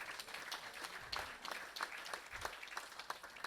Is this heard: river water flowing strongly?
no